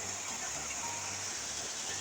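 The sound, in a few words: heavy rain falling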